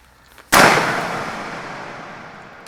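A single loud shotgun blast fired at a pattern target from 20 yards with a Carlson choke tube, the sharp crack trailing into a long outdoor rumble that fades slowly, with no talk.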